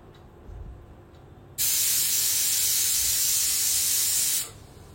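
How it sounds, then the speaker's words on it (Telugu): Pressure cooker of mutton curry letting off a loud, steady steam whistle that bursts in abruptly, holds for about three seconds and then cuts off, close to the listener, with quiet kitchen background before and after. "కుక్కర్ మూత పెట్టుకొని ఒక 8 విజిల్స్ వచ్చే వరకు మనం కూరని కుక్ చేసుకోవాలండి"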